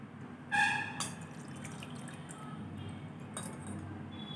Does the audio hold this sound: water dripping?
yes